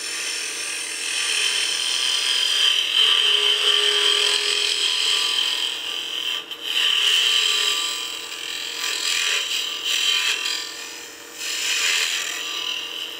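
A gouge hollowing a baby rattle on a wood lathe, giving a continuous close, bright scraping hiss with brief dips as the cut lifts and resumes.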